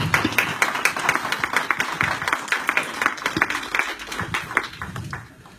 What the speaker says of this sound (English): So let's give them both a nice round of applause.